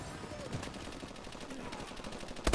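Rapid ARX assault rifle bursts in Call of Duty: Advanced Warfare, steady crackling gunfire running throughout with a louder shot at the end, under game ambience.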